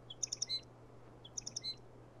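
A flock of sparrows in a Unity game scene gives two quick bursts of bright, high chirps about a second apart over a faint low hum.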